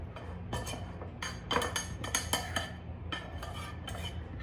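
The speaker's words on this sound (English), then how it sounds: "We're gonna just kind of mix this around with our pastry blender. We're gonna be cutting in our butter." Metal tines of a pastry blender scrape and clink repeatedly against a bowl in an uneven rhythm, close up, cutting butter into crust mix.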